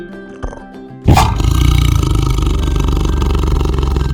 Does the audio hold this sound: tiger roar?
yes